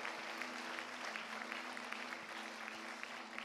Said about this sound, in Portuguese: Se você ama Jesus, aplauda Ele mais forte agora.